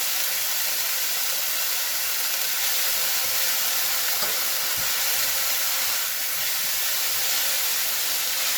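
Leeks and garlic sizzling in a hot pan for a chicken and mushroom risotto, a steady, even hiss that holds for several seconds with no one speaking.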